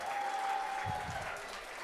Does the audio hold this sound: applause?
yes